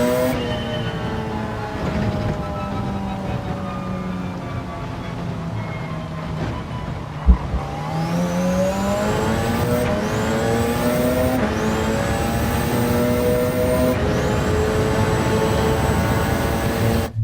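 Race car engines in Gran Turismo 7 rev hard and shift up repeatedly, with a loud, continuous rising whine climbing through the gears alone, no talk.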